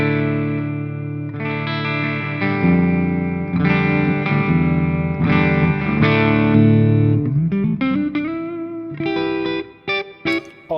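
A distorted electric guitar through a Victory V1 pedal amp, recorded direct with custom impulse responses, plays sustained chords with chorus and Torpedo reverb, then shifts to choppier, bending notes that cut off abruptly toward the end.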